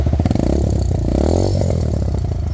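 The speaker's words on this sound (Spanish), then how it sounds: "Suena durísimo ese escape" A 200cc dual-purpose motorcycle engine revs hard with a deep, throaty exhaust roar, close and loud, rising and falling through the clip.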